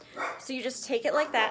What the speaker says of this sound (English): I apologize for my dogs, okay?